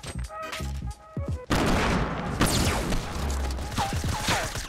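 Rapid bursts of gunfire in the video game Fortnite, loud and close, with fast volleys and impacts following a few quieter opening shots.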